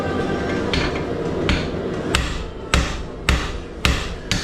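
Heavy hammer blows strike hot metal on an anvil while forging a fireplace brush, about seven sharp ringing impacts in a steady rhythm, close and loud over a constant background roar, likely from the forge.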